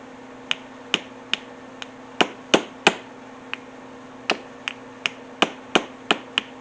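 Sharp, clicky taps ring out one after another in uneven groups of two and three while a part is tapped into a leather strap tool holder, each hit crisp and close against a faint steady hum.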